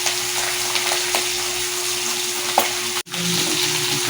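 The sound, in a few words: bacoco fish frying in oil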